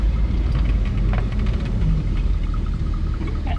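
Classic Ford Thunderbird engine with a noticeable camshaft, heard from inside while driving: a steady, loud low rumble with light rattles, continuous for a few seconds without speech.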